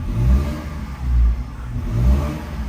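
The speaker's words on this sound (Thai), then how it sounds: "อันนี้เหยียบเหยียบคันเร่งอยู่นะฮะ" A Tata CNG truck engine with a fault that keeps it from picking up revs is throttled, giving three low, loud surging revs that swell and fall back in an uneven swinging rhythm, with no voices.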